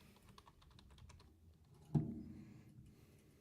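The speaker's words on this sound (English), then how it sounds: "I guess I'm typing." Fingers type on a computer keyboard, close and fairly quiet. Irregular soft clicks run for about two seconds, then a louder thump follows as a key is struck hard, with a few faint taps after it.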